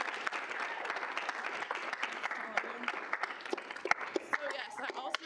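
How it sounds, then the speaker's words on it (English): Steady applause from an audience at a student senate meeting, welcoming three new senators, dense and sustained for several seconds with sharper individual claps near the end. "give all 3 of them a round of applause"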